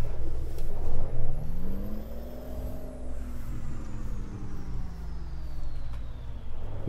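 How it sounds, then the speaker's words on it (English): A Cummins ISX truck engine in the Euro Truck Simulator 2 game rumbles low and close while it revs up and falls back, with a rising and falling whine over the drone. "This is the ISX engine."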